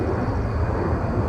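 A Swiss Airbus A340-300 airliner at Incheon airport gives a steady, broad jet engine roar that holds level and fairly loud throughout, with no voices over it.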